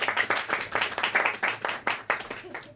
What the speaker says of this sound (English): Please put your hands together for the organizer, for Łukasz, for making this all happen.